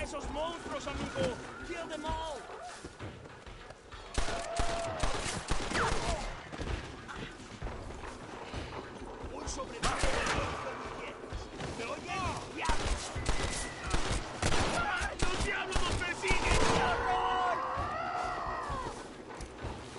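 Gunfire in Red Dead Redemption: Undead Nightmare on PS5, repeated sharp shots and bursts scattered through a chaotic fight, with players talking loudly over the action.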